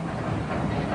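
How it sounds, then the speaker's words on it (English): Genuine steam-powered train of the Disneyland Railroad, heard as a steady, loud, dense rumble with a rhythmic chugging texture that continues without pause for about a second, with no voices. "You're riding aboard one of 4 genuine steam-powered trains of the Disneyland Railroad."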